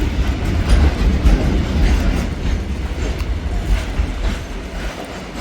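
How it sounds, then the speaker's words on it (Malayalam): A goods train rolls steadily past at close range, a continuous loud rumble with rhythmic clickety-clack of wagon wheels on the rails, no voices. "വളരെ ചിട്ടയായിട്ട് അടുക്കി വളരെ സൂക്ഷിച്ചാണ് അവർ കൊണ്ടുപോകുന്നത് ഗുഡ്സ് ട്രെയിനുകൾ"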